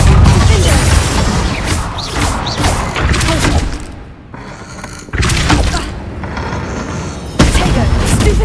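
Incendio fire spell cast in the Hogwarts Legacy video game, loud booming bursts and crashing blasts in repeated waves amid busy combat noise, with short quieter gaps between.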